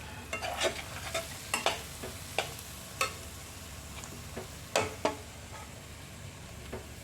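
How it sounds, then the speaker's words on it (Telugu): Prawn curry with garam masala powder being stirred in a pan, giving soft scattered scraping and clinking strokes over a low sizzle, fairly quiet and close, with no voices. "ఇప్పుడు గరం మసాలా పొడి కూడా ఒక ముప్పావు టీ స్పూన్ వేసుకొని ఒకసారి బాగా కలుపుకోవాలి"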